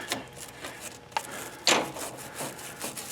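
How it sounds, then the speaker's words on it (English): Grease is scrubbed off the steering sector and pinion gears of a lawn tractor, giving repeated close rubbing and scraping strokes in an uneven rhythm, with occasional sharper scrapes. "we're going to clean off some of the grease built up on that guy"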